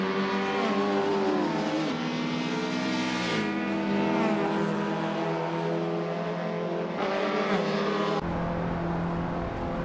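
Racing cars in a video game run nose to tail, engines roaring steadily with rising and falling harmonic pitch as they shift, loud and continuous with no talk.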